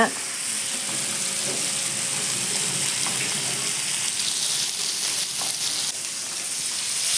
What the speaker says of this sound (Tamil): கடைசியாக மீன் மட்டும்தான் வறுக்கிறேன் எண்ணெயில் அப்படியே பொறிச்சு எடுத்துக்கலாம் மீனை